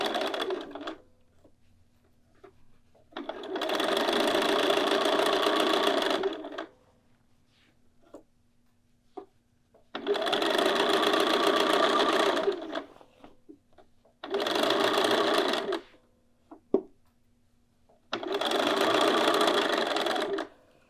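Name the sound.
sewing machine stitching shoulder seam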